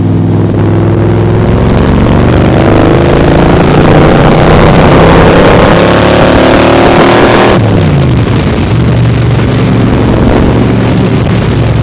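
A 2020 Backdraft Cobra sports car pulls hard in fourth gear, its engine a loud, continuous roar that rises steadily, drops briefly as a shift or lift occurs, then keeps building, heard up close from inside.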